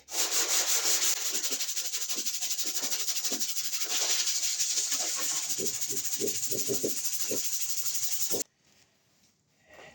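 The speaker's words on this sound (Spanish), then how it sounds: "voy a terminar, como les digo, con esta lija 120" Rapid back-and-forth scratching of 120-grit sandpaper on a car body repaired for hail dents, steady and close for several seconds, then stopping abruptly.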